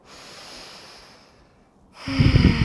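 A deep yoga breath drawn during a Hatha practice: a long soft airy inhale fades into near quiet, then a louder, rougher nasal exhale bursts in close to the mic at the end.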